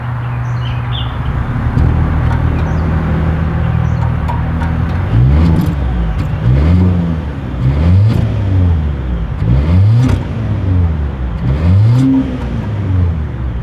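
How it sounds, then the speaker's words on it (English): A 2026 Volvo XC90's exhaust is heard up close and loud, first idling steadily and then revving in several rising and falling pulls, one after another. "As always, here is that exhaust clip."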